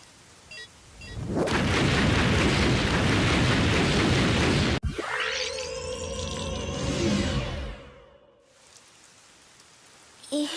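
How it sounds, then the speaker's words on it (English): Bomb detonating in a video game: a sudden sharp blast cuts through a long roaring hiss, followed by a ringing, sweeping tonal tail that fades into near silence. "Bomb will detonate in..."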